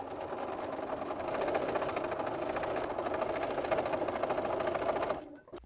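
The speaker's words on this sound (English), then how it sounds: "Next, I'm ready to sew along this seam." Sewing machine running steadily along a seam of a drawstring pouch purse, a fast even mechanical whir with rapid needle ticking for about five seconds before stopping abruptly.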